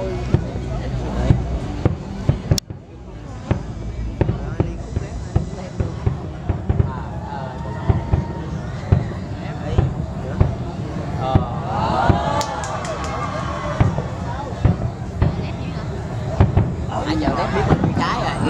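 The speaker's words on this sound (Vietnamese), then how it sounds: "Năm nay là pháo Trung Quốc rồi," Chinese fireworks burst over a spring display in Can Tho, Vietnam, with irregular sharp bangs and crackles, some loud close pops among distant booms, under steady crowd chatter and people talking.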